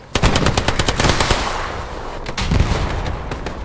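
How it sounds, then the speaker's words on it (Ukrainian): Artillery and heavy gunfire in Hell Let Loose, loud rapid bursts of shots and booms close by, then a short lull and a few more blasts, with no talking. "Ай, гарно арта йде!"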